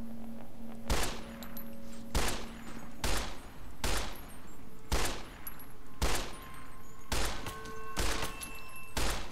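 Gunfire in a video game fires off a whole magazine: about eight loud, sharp shots spaced roughly a second apart, with no talk over them.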